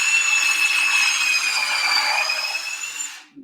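A power driver whines steadily as it sinks a screw into a wooden tool box, one continuous close, loud drive lasting about three seconds before cutting off abruptly.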